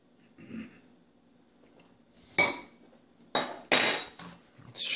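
A spoon clinks against a dish while lentils are eaten at a meal: several sharp, close clinks and scrapes in a quiet room, with a faint voice early on.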